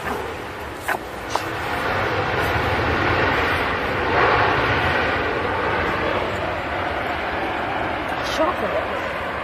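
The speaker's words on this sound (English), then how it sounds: "And there we go, just getting off shot now, the Dreamliner" A Boeing 787 Dreamliner airliner departs Manchester Airport, its engines a broad, steady roar that swells slightly and holds throughout. Brief faint clicks sit over the roar.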